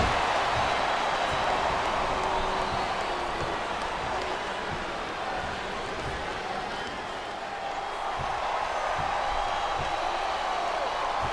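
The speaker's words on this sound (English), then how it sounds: "It sounds like this capacity crowd has something on their minds." A capacity crowd fills a wrestling arena at a WWE event with a continuous roar of cheering and murmur, dense and steady throughout, with faint scattered claps and shouts inside the din.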